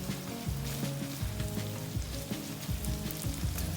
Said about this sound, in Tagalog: So lulutuin natin yung ating shrimp ng mga 3 minutes hanggang sa magiba yung kulay niya